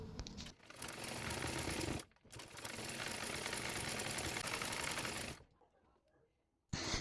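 A sewing machine runs straight stitches on a size-38 princess-cut blouse, in two long steady bursts split by a brief pause, then goes quiet before starting again at the end.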